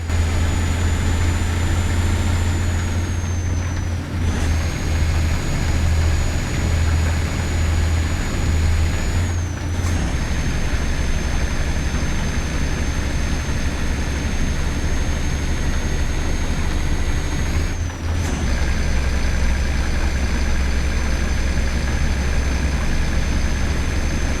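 A truck engine in Euro Truck Simulator 2, played on a Rampage Force V995 steering wheel, drones steadily with a loud low rumble and a whining high tone, dipping briefly at three gear shifts up through sixth and seventh gear, with no talking.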